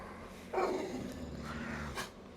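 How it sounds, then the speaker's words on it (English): A dog growling low in the background, a faint sustained rumble with a brief higher whine near the start, heard alone without talk. "And you hear my pup back there."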